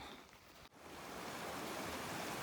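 Rushing creek channel in the backcountry, a loud, continuous broadband roar of fast water, close and steady after a brief dip near the start.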